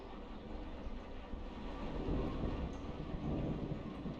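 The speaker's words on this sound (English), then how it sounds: "that storm's getting louder, isn't it?" A thunderstorm in the video game Kentucky Route Zero, with low rumbling thunder swelling beneath steady rain, heard alone and fairly quiet.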